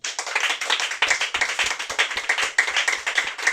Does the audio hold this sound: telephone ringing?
no